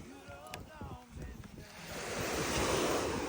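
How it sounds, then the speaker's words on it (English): Ocean waves at the beach swell into a loud, broad wash of surf with wind noise, following a brief moment of voices and a dog's sounds at the start. "Look, it's the ocean."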